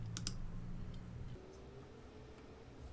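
A computer mouse clicks an on-screen OK button during photo editing, a few crisp, faint clicks near the start over a low steady room hum, with no talking.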